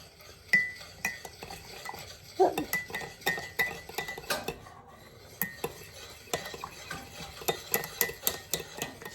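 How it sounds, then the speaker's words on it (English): A spoon stirs Cajun cream sauce in a pan, with irregular metallic clinks and scrapes against the pan, close and fairly quiet, with a short pause partway through. "Stir it all together."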